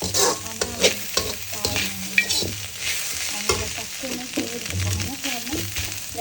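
Fried rice (nasi goreng) being stirred in a pan, with a loud close sizzle, repeated spatula scrapes and clacks, and an occasional voice underneath.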